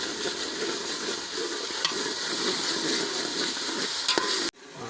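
Mutton and spices fry in a pot with a loud, continuous sizzle close by. Stirring scrapes break through it until the sound cuts off abruptly near the end.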